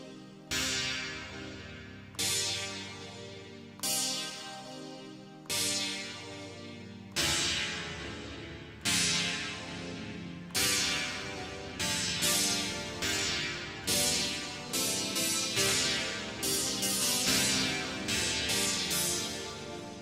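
Subtractive synthesizer oscillator with filter cutoff and envelope modulation, striking repeated bright plucky notes that decay, speeding up into a faster rhythmic sequence, played alone without speech.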